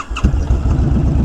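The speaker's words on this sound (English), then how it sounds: "Start the bike." A Honda Fury motorcycle engine cranks and catches in a hard start, settling into a loud, lumpy low rumble close by, with no voices.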